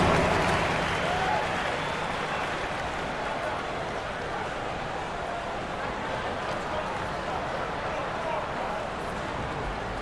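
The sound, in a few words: applause from a video game crowd, NBA 2K26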